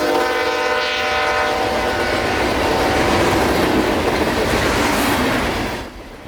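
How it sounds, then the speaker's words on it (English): A CSX mixed freight train roars past at close range, loud and continuous, with steady wheel rumble and clatter, a horn tone at the start, then fading abruptly near the end. "Q453, mixed freight out of Waycross early this morning, headed for Miami's Hialeah yard"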